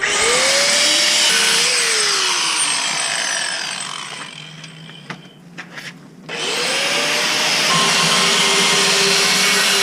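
A power drill whirs steadily and loudly nearby in a garage while a VR6 euro lip is fitted to a MK3 Golf, pausing briefly midway with small clicks before spinning up again.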